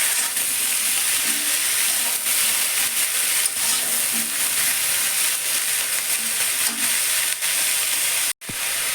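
Tomato fries in a pan with other ingredients, giving a loud, steady sizzling hiss that runs unbroken and close, then cuts off abruptly near the end; nobody speaks.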